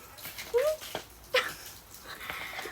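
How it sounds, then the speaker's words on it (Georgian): A dog gives a couple of short whimpering yelps over a quiet room, with faint breathing and small noises between them. "ეს ჩემი ძაღლი."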